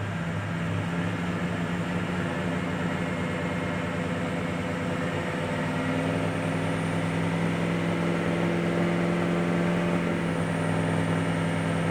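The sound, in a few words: 2006 Ford 6.0 Powerstroke diesel engine running rough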